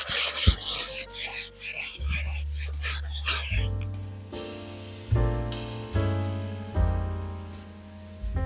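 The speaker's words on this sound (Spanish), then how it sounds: "voy a pasar una última vez con la lija de grano muy fino sobre toda la superficie" Rhythmic rubbing strokes of very fine sandpaper scraping across a chalk-painted fabric surface, close and brisk, then giving way to sustained musical tones.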